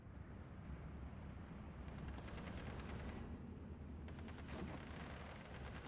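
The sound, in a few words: gunfire in Steel Division 2 video game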